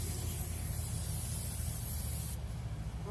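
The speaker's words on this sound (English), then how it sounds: "So I always bring my spray stuff out here." A steady, close hiss of cooking oil spray onto a grill lasting a couple of seconds over a low mechanical hum, then the spray stops.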